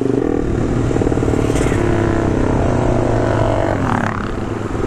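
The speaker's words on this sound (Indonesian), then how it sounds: "Gokil coy motornya pada serem-serem suaranya." Loud motorcycle engines, including scooters, rev and rattle at a busy roadside hangout, a dense continuous roar with clattering and rising whines close by.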